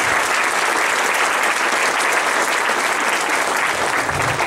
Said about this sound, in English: let's give them a round of applause for doing all the work on this